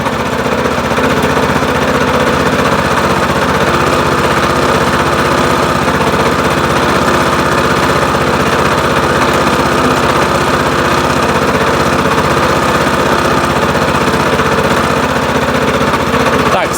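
A WEIMA 1100-6 walk-behind tractor runs in first reduced gear, its engine a loud, steady, close rattling drone that continues unbroken throughout.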